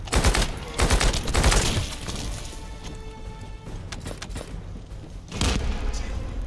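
Video game gunfire in bursts, with rapid rattling volleys and heavy impacts up close, easing off in the middle before another loud burst near the end, with a player talking faintly underneath.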